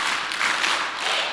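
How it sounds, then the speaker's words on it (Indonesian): Audience clapping in unison for a group cheer chant at a business leadership seminar, dense and sustained applause filling the room with no voices. "Sekarang kalau tepuk semangat satu."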